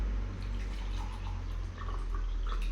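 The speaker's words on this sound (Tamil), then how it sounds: "ஹாட் வாட்டர் சவுண்ட் வரா." Hot water trickles and drips into a cup while a drink is being made at home, a steady low, continuous pour without talk.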